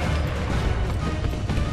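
Heavy rumbling explosions in the video game Sniper Elite v2, a dense, loud barrage of low booms and crashes running continuously without a break.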